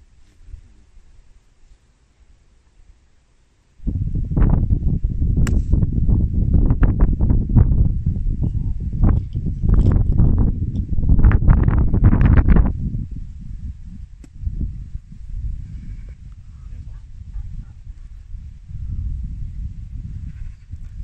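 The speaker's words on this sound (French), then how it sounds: "Le vent commence à souffler vraiment fort." Strong wind gusts across a golf course at an open tournament, roaring loudly and steadily after a quiet start, with buffeting that swells and eases and then settles into a lower rush.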